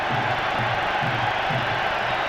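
Broad roar of a large Manchester United crowd at Old Trafford cheering Scholes during a 1997 England friendly, a continuous wash of stadium noise with rhythmic chanting swells underneath.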